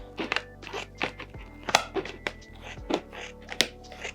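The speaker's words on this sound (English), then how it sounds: "I feel like I'm infinitely chopping now" A knife chops through food on a cutting board in a steady series of crisp, close taps and thunks, about two to three per second, with no talk over them.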